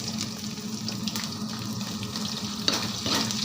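Onion frying in a pan with rendered chicken skin for pinakbet, a steady close sizzle running throughout with a few brief clinks and stirring scrapes near the end, no voices.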